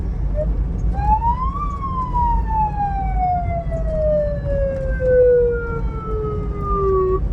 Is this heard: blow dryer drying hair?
no